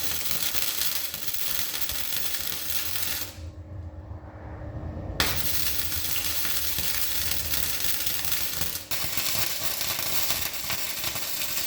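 Continuous crackling, sizzling arc of welding during a truck build, steady and close, with a short dip partway through before the buzzing hiss resumes; no talking.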